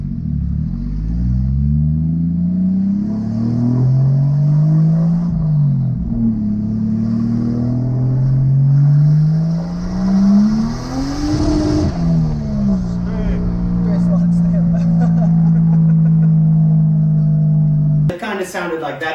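Mercedes M104 turbocharged engine with a blown head gasket, heard as a loud, close, continuous rumbling drone whose pitch rises and falls with revving, ending in a brief louder burst.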